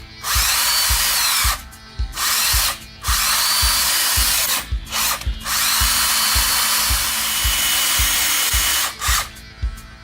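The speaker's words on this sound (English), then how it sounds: "Got a 3/16 drill bit here." A power drill with a 3/16-inch bit whines steadily through wood during rear brake work on a 2012 Kia Rio, with several brief pauses where the motor stops and restarts, loud and close.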